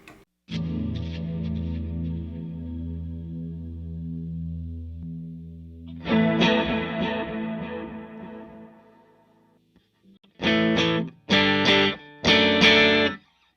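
A Les Paul electric guitar plays through a Matchless amplifier with heavy effects: a sustained chord rings out, then gritty strummed chords and three sharp, choppy bursts.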